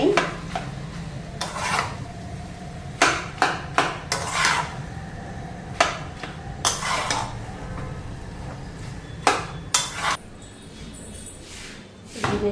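Chow mein with tomato sauce is stirred in a pan, close rhythmic scraping and clattering strokes of a utensil against metal over a low sizzle.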